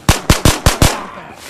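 Five sharp, loud gunshots in quick succession from a Ghosts of Tabor firefight, evenly spaced and close, ending in a short fading tail.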